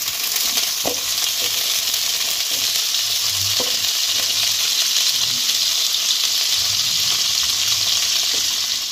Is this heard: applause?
no